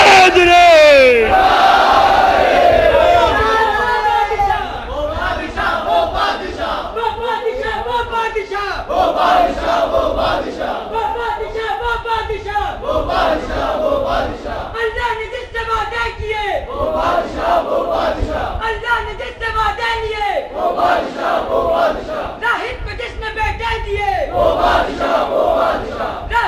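A large crowd at a religious celebration shouts the Haidari slogan in repeated, rhythmic bursts, loud and echoing, with a leading voice calling out first.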